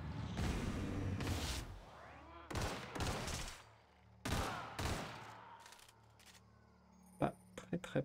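Gunfire in The Outer Worlds on Nintendo Switch, several sharp bursts of shots spread across a few seconds with quieter game sounds between them and a faint voice talking.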